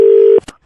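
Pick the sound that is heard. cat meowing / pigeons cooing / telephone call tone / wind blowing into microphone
telephone call tone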